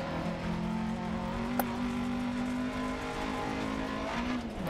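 A rally car's engine drones steadily in the DiRT Rally 2.0 video game, holding a sustained tone with a brief sharp click partway through. It is fairly loud and close, with no talking over it.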